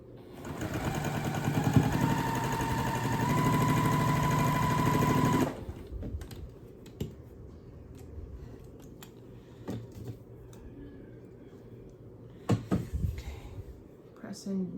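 A sewing machine stitches a quilt block for a mystery quilt pattern, running steadily for about five seconds and then stopping, with quieter handling sounds and scattered clicks afterward.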